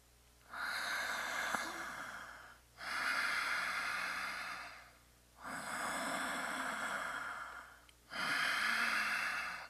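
Strong tai chi breathing training: four long forceful breaths alternating inhale and exhale, each a loud airy rush of several seconds, close to the microphone.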